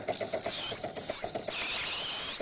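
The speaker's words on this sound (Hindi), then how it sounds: "ट्रेन की जो पुरानी सीटी है, जब सीटी बजाते हैं तो ट्रेन की स्पीड स्लो हो जाती है" An old small steam locomotive whistle sounds in three loud shrill blasts, two short ones then a longer held note, with a hiss of escaping steam and a faint rhythmic chuffing underneath.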